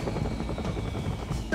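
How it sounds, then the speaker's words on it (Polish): Cartoon helicopter in an animated rescue-heroes episode, its steady rotor whir droning continuously and close throughout the short stretch, switching to turbo drive. "przełącz śmigłowiec na turbonapęd"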